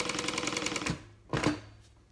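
A sewing machine stitches a bag in a fast, steady whirring run that stops abruptly, followed by a second short burst of stitching before falling quiet again.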